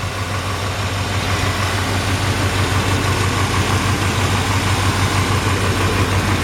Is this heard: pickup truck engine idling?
yes